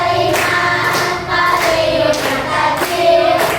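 A class clapping in a steady rhythm to a children's song, with the hand claps falling at regular intervals under young voices singing together.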